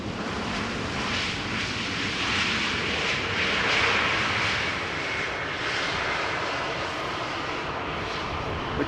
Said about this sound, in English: You might also pick up the sound of a departing Embraer 190.